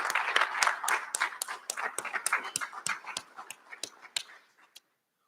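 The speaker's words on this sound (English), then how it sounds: "Give yourselves a round of applause." A graduating class at a recognition ceremony applauds in steady, sparse claps with a few scattered hands, fading out after about five seconds.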